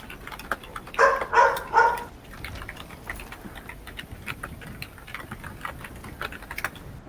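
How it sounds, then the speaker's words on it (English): Fast typing on a computer keyboard, a dense rattle of keystrokes that bursts loud early, then continues as quicker, lighter clicks. "All I hear is you typing. Rattle, rattle, rattle."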